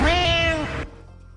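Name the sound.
person imitating a cat meowing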